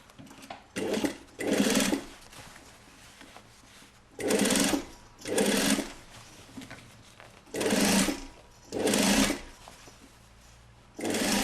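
A sewing machine stitches a rib seam all around a basque corset in short, loud, close bursts, about eight separate runs of rapid stitching with brief silent pauses between them.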